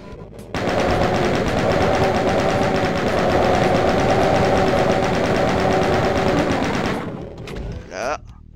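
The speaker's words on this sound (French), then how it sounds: "Passer à la mitrailleuse." Rapid sustained machine gun fire from Doom II, a dense loud stream of shots lasting several seconds before cutting off, followed by a brief trailing sound.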